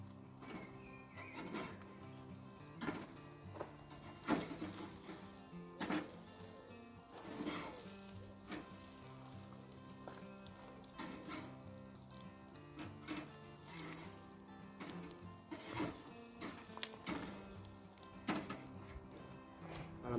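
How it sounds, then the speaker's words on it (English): Spicy lamb burgers sizzle on a barbecue grill after being flipped, giving a steady close crackle of frying fat with scattered sharp pops and occasional utensil clicks, fairly faint throughout. "we're just going to flip these burgers over now"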